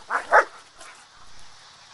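One of three white dogs kept with a billy goat barks twice in quick succession, short sharp yaps close by, followed by quieter ambient noise.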